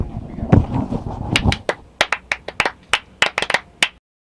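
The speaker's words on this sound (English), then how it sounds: "clap for me." Hands clap sharply in a quick, uneven burst of single claps, close and distinct, following a brief stretch of muffled talk and noise.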